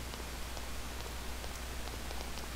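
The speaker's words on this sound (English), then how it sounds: "Yep, it's raining" Steady rain in the video game Persona 4, a soft even hiss of falling drops with faint scattered taps, constant and unbroken throughout with no talking.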